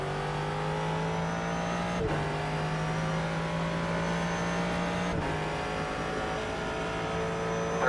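Ford GT3 race car lapping Sonoma, its engine droning at a steady high pitch heard from the cabin, with two sharp gear shifts breaking the tone and no talk.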